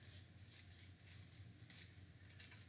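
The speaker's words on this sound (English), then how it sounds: "And I need a pair of scissors." A few quick, soft snips of scissors cutting strips of paper, close by and quiet, in an uneven rhythm.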